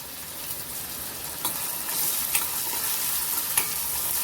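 Onion and tomato sauté in a pan for a raw jackfruit curry, a continuous bright sizzle with a few soft stirring taps, steady and close with no voices.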